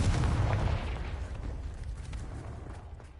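The Confringo blasting spell in Hogwarts Legacy explodes as one loud, close boom with a deep burst at the start that rumbles and fades over a few seconds, with no voices over it.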